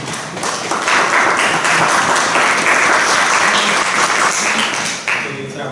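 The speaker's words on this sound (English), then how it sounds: "Give him applause." An audience at a Lake Helen city commission meeting breaks into loud applause. The sustained clapping swells quickly, holds steady for several seconds, then tapers off near the end, with a faint voice underneath.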